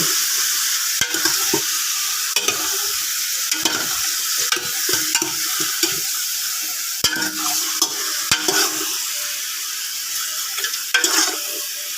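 Pork leg fries in a pan, stirred with a utensil: a constant bright sizzle punctuated by repeated sharp scrapes and knocks against the pan, close and loud.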